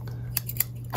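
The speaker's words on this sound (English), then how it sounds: "scissors." Safety scissors snip quickly, three or four crisp close cuts in under a second over a steady low hum, with no talking.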